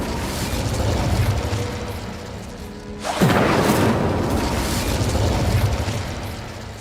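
An Incendio fire spell cast in Hogwarts Legacy bursts with a sudden loud whoosh and boom, followed by a roaring flame rush that lingers over background game ambience.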